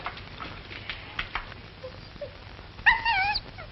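A dog whimpers and yips in a 1940s hillbilly comedy cartoon, soft patters and small sounds first, then a short rising whine near the end, close and moderately loud.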